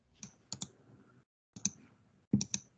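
Keys clicking on a computer keyboard during a classroom tech training session, a few close, sharp clicks in two short bursts separated by a pause, with no speech.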